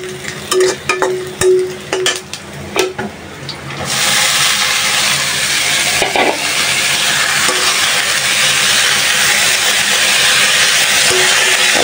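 Onion and garlic lightly frying in hot oil in a pan, cooked alongside radish greens: a few sharp taps and clicks at first, then a loud, steady sizzling hiss from about four seconds on, with no talking.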